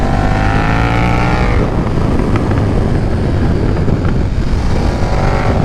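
A 2022 KTM 1290 Super Duke R with a BT Moto flash tune accelerating hard out of a turn: a loud, close engine roar with rising pitch, a brief dip, then building again, heavy wind noise throughout.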